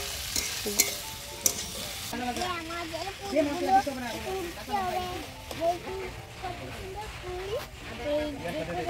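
Oil sizzles and crackles steadily as spices fry with chopped tomato, capsicum and coriander for prawn biryani, with a voice talking over the cooking.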